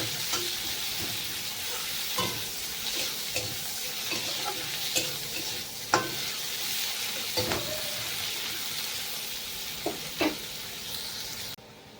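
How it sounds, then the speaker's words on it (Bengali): Chopped onions sizzle in a pan with black cumin in the oil, a steady frying hiss broken by repeated scraping stirs and light clicks of a spatula, close and moderately quiet, with no talking. "দিয়ে দেবো পেঁয়াজ কুচি পেঁয়াজটাকে ভালো করে ভেজে নিতে হবে"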